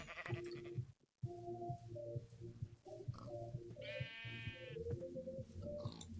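Sheep bleating in the video game Minecraft, one clear wavering bleat rising above steady background game music, with fainter sheep sounds scattered through the scene.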